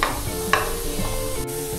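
Plain cooked rice being tempered in a hot pan, a brief close sizzle with a few stirring scrapes and clanks, no voices.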